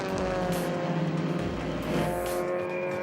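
Vintage race cars, including a Chevelle and Alfa Romeos, stream through a track corner in a steady, loud engine roar of several cars together, with a continuous throaty drone and no distinct pass-by.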